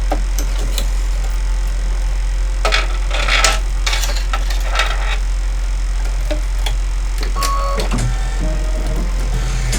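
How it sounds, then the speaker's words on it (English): A sewing machine stitches background quilting, giving a steady mechanical ticking and whirring that runs continuously at close range over a constant low hum. "now I'm going to go ahead and do that background quilting"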